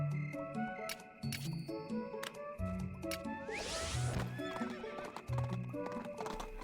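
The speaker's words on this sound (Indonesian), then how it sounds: "membeli seekor kuda yang bisa kita jadikan sebagai tunggangan" Horse in the video game Portal Knights neighs and whinnies loudly over a steady clip-clop of hooves, layered with busy game music and effects.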